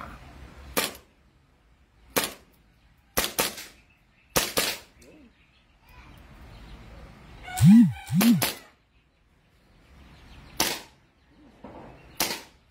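Sharp single gunshots from a .45 caliber 2011 pistol at a shooting range in Batangas City, about eight loud reports spaced irregularly, a close pair near the middle, with faint low voices in between.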